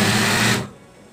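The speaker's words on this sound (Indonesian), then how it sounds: "Lalu kita jahit lagi." A sewing machine stitches a baby blanket in one loud, fast, whirring burst of about half a second, then stops abruptly, leaving quiet room tone.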